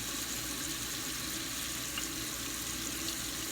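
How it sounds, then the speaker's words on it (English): Kitchen faucet water runs steadily into a sink, a continuous broadband hiss and splash at even level throughout, close by with no talking. "Let the faucet cry, not your eye."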